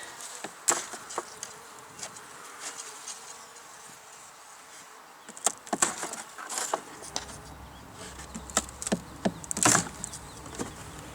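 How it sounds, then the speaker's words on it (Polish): Robber honeybees from another colony buzz around a hive where syrup was left out, a steady insect hum broken by repeated loud, close passes of individual bees. "te pszczółki były tutaj po to, żeby rabować"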